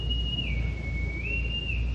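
A sea captain's shrill whistle in a 1961 stage production of The Sound of Music, blown to summon the children: one sustained high tone that dips to a lower pitch and climbs back, loud and clear over a low rumble.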